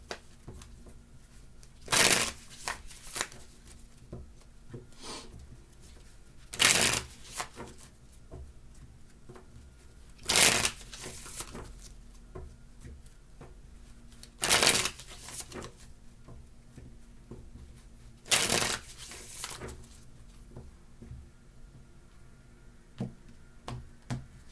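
Tarot cards being shuffled, with five loud riffling bursts spaced about four seconds apart and faint card handling and ticks between them, close and clear with no talk.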